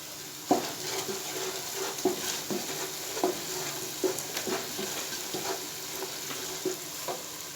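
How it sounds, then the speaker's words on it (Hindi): Spices and tamarind powder frying in oil for a Pakistani dhaba-style fried mash daal, a steady close sizzle broken by regular spoon stirs and scrapes against the pan, with no talking. "एक मिनट इसको भून लिए"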